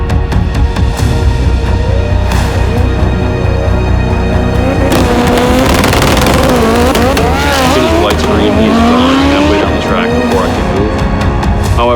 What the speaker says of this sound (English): However, the car finally made its cleanest pass